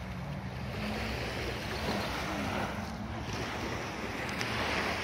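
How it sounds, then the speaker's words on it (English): Personal watercraft (Sea-Doos) head out over the water, heard as a continuous distant engine drone blended with wind and lapping water, fairly faint and steady, with no speech. "there's the people leaving on their sea-doos"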